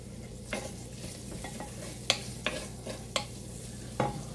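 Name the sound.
sweet potatoes and vegetables cooking in a pan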